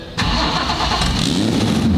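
A 1,000 horsepower car engine cranks and catches, then settles into a loud, steady running rumble close by.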